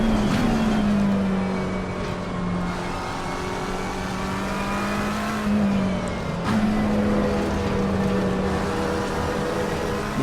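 Race car engines roar continuously in the Assetto Corsa Competizione sim at Silverstone, a loud close engine holding steady pitch with shifts and a rival Porsche running nearby, no voices.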